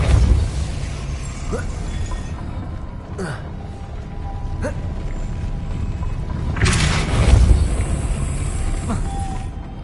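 In Hogwarts Legacy a Depulso spell goes off with a booming burst over rumbling game ambience. Several creaking, crashing hits follow, and a louder surge of noise builds near the end.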